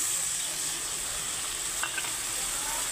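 Water hits fried potatoes in a hot pan for aloo posto, setting off a loud, even, close sizzle that hisses without pause, with a few faint clinks.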